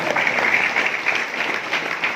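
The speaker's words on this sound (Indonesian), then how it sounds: "Tepuk tangan aja, nggak tahu alasannya." An audience at an Islamic boarding school sermon gathering breaks into applause, a steady, fairly loud spread of many clapping hands lasting the full moment without a break.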